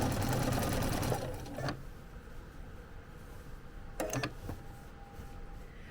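Sewing machine stitching up the center vein of a fabric leaf, a fast mechanical whirr for about a second, then short bursts of stitching separated by quiet pauses.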